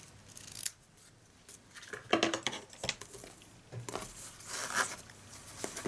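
Scissors snip through a length of rich raspberry ribbon at a papercraft table for a handmade gift box, a few crisp close cuts with light handling rustle between them, no talking.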